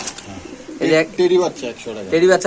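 Pigeons at a market sale, including females and a young bird, coo in short repeated bursts close by, with people talking around them.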